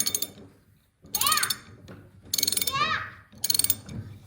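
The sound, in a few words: 7/8 ratchet being turned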